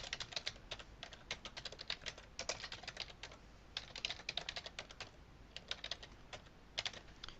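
Steady bursts of typing on a computer keyboard while entering MySQL ODBC connection settings, fast clustered keystrokes in runs with short pauses, close and fairly loud, no talk.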